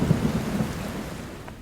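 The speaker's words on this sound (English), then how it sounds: "night thunder growled" Thunder growls low and steady through a dawn rainstorm, strongest in the first half-second, then fades into a continuous hiss of rain. No voices are heard.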